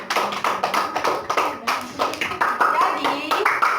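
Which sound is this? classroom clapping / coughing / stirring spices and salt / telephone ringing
classroom clapping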